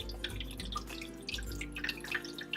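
Tap water poured into the reservoir of an AeroGarden Sprout indoor garden, a quiet, continuous trickle with scattered drips and splashes, close and faint, no speech.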